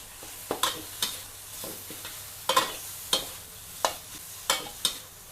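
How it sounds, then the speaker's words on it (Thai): Minced pork is stir-fried with dried chili and garlic in a pan, the spatula scraping in a steady rhythm of about a dozen sharp strokes over a soft sizzle, heard close with no voices. "เราก็จะเอาหมูสับนะคะใส่ลงไป แล้วก็ผัด"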